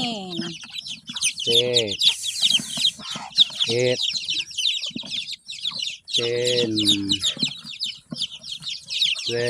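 Mother hens cluck in low repeated calls while their chicks peep constantly in shrill high chirps, close by throughout; a voice counts numbers softly in between.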